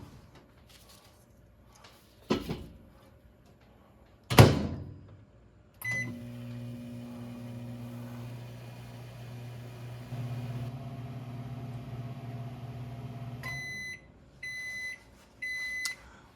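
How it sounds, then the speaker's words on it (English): A microwave oven cooking corn on the cob starts after a few door and button clicks, then hums steadily for several seconds before finishing with a run of short, repeated beeps. "Into the microwave."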